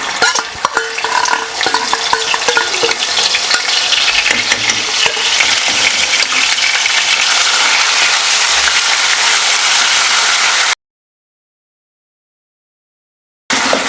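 Cloves, cinnamon, fennel and ginger garlic paste fry loudly in hot oil for a mutton fry, a dense continuous sizzle with stirring scrapes, cutting to a brief silence near the end before resuming.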